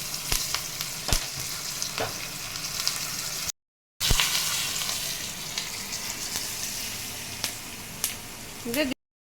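Curry leaves fry in hot oil for a vegetarian dosa recipe, giving a close, continuous crackling sizzle with sharp pops, briefly cut off midway, then resuming at a steady level.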